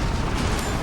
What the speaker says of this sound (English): Because there's huge explosions going on